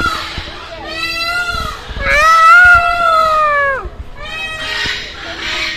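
A peacock calling loudly at a bird sanctuary in Colombia: several loud, wailing, harmonic cries close by, rising and falling in a repeated sequence with short gaps between them.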